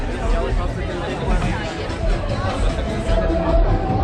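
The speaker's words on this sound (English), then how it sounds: "So we're gonna walk through this crowd." Dense crowd chatter and hubbub fill the street at the Lusofonia Festival in Taipa, Macau, a steady, close wash of many overlapping voices with no single talker standing out.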